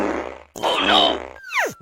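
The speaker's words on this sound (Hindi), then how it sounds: "बाप रे, कितना जहरीला पादता है।" Cartoon fart sound effect in an animated Motu Patlu comedy, a loud sputtering burst with a descending whistle-like sweep at the end, following a brief character voice.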